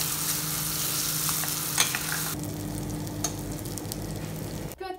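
Oil hisses and sizzles steadily in a hot pan during frying for a vegan potato casserole, a continuous crackling with a few sharper pops, close and fairly loud, cutting off briefly near the end.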